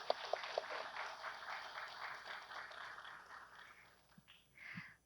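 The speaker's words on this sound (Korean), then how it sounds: "다시 한번 뜨거운 박수 부탁드립니다" An audience at a university ceremony proclaiming the International Year of Basic Sciences gives a warm round of applause after a sand illustration performance. The clapping is a soft, dense, fairly distant patter that thins and fades toward the end.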